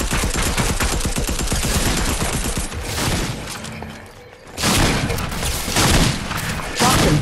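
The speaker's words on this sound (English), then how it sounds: "Wait, it's a different pistol." Rapid pistol fire in Fortnite cracks out in dense, sustained bursts, with a brief lull midway before another loud volley and scattered shots toward the end.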